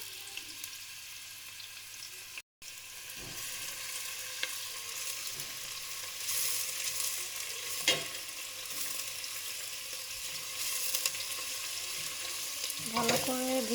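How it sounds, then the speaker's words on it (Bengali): Chopped onions fry in hot oil for chicken biryani, a steady, close sizzle with occasional stirring clatter and a brief dropout near the start. "এখানে আমি তেল ঢেলে নিচ্ছি। পেঁয়াজ কুচি দিয়ে দিচ্ছি।"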